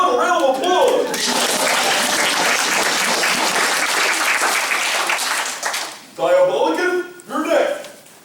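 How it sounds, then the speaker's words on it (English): A crowd at a horror-themed spook show bursts into sustained applause, broad and even for several seconds, bracketed by people talking just before and after. "How about a round of applause?"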